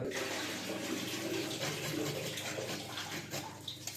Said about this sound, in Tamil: ஸ்டெப் 1, கேரட்டை கழுவ போகிறோம்